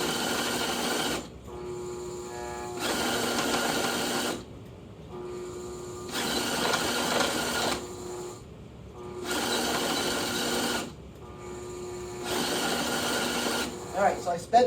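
A CueFeed conveyor attachment runs at an increased speed, its motor sounding in steady rhythmic bursts of roughly a second and a half, each separated by a brief lull, fairly close and even in loudness.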